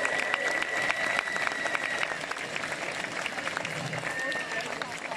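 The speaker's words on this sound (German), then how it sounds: "Applaus" A large outdoor crowd of about two thousand people at a pro-democracy rally in Menden applauds, a continuous dense wash of clapping with scattered whistles and voices, sustained throughout.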